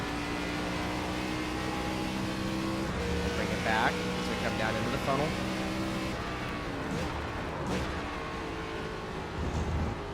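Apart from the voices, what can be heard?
race car engine driving in iRacing video game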